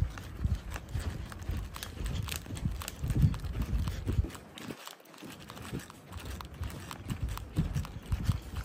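A horse's hooves clip-clop in a quick, continuous rhythm against a busy background, moderately loud and fairly close, with no voices heard over them.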